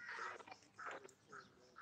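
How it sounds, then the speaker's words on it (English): An unseen bird calls outdoors at a lake at dusk, giving several harsh, raspy screams in uneven bursts, faint and distant across a quiet evening background. "It is a type of bird, but it screams like it sounds like somebody's being murdered."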